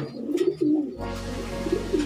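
A young pigeon hatched in 2020 coos at a loft, soft low repeated coos close by, with a steady hum filling the background in the second half.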